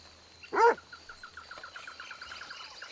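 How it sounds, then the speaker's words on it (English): A small dog in the Red Dead Redemption world (RedM) gives a single short bark, followed by a run of quick chirping bird calls in quiet surroundings. "Oh, is that a little dog?"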